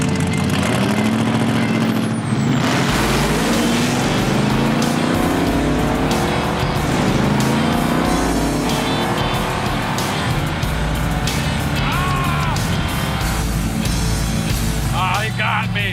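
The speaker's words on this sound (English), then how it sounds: "I spun the tires really hard, but then drove past them at the top end" A gasser-style Chevy drag racing, loud engine roaring under hard acceleration with tires spinning and squealing, engine pitch rising through gears as it runs down the strip, with voices faintly beneath the noise.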